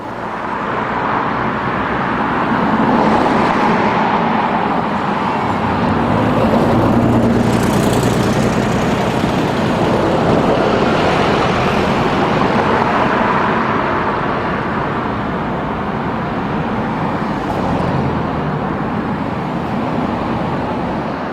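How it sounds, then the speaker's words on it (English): Two red London buses swing round a roundabout and onto a dual carriageway, their heavy diesel engines droning loudly and continuously, swelling slightly as they pass, with no talking. "Both red buses swing round the south side of the roundabout and onto the dual carriageway."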